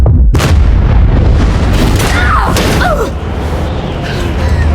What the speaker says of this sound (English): The explosion's shockwave miraculously propels her back onto the plane, unharmed.